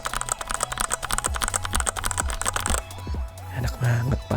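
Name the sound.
typing on Fantech Maxfit61 mechanical keyboard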